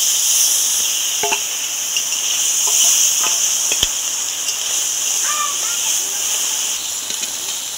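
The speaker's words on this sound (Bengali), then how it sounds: "তেলটা গরম হয়ে গেছে। এবার আমি মাছটা দিয়ে দেব।" Fish seasoned with salt and turmeric frying in hot oil in a wok, giving a loud, steady hiss and sizzle close up, with faint clinks and a brief snap in between.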